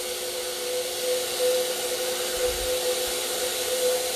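A steady hissing spray from a paint sprayer applying metallic paint to furniture runs continuously at close range, a constant airy whoosh with a faint hum underneath and no talking.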